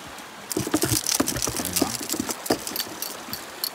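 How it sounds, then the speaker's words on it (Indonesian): Rain begins to fall at a riverside camp, a light irregular patter of drops that starts suddenly and keeps up steadily with no voices over it. "Sudah pun mulai hujan."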